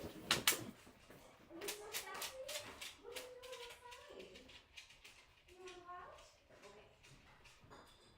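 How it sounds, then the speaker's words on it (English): A dog whimpering and whining at the door to be let out, thin high-pitched cries rising and falling in short bursts, fairly close and quiet, with a person talking around it. "My dog needs to go out."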